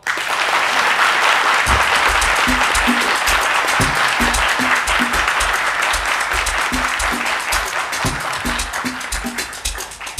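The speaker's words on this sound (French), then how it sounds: "Ayipo, sous vos applaudissements." Steady, loud applause from a large audience at a French midday event, sustained throughout with a few rhythmic thumps beneath.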